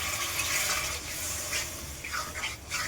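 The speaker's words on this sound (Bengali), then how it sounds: "ওর জন্য একটু সামান্য জল দিয়ে দিচ্ছি" Water is poured into a Bengali puti fish curry (jhal) seasoned with turmeric and chili powder, a steady, close splashing trickle that runs without a break.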